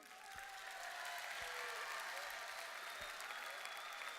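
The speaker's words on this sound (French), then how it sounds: "que vous pouvez applaudir très très fort" Audience applause at an afternoon ceremony, a steady distant patter of many hands clapping that rises slightly and holds, with a murmur of voices mixed in.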